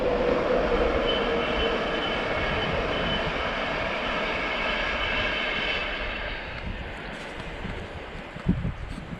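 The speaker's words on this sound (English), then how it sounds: "Ooh, a train." A train rolls past outdoors by a riverbank, a steady loud rumble and clatter of wagons that slowly fades as it moves away.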